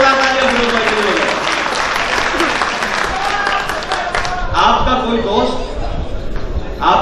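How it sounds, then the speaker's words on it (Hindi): Applause from the audience at a mushaira poetry gathering, a broad continuous clapping that swells and fades, with voices, murmured chatter and light laughter mixed in. "एक बार जोरदार तालियां"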